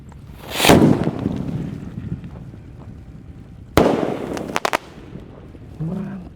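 Red Bima Sakti size 4 firework launched outdoors: a loud sharp blast opens, then a second heavy boom followed by a few quick crackling pops, with a brief faint voice near the end.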